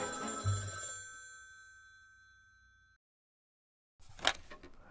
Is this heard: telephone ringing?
yes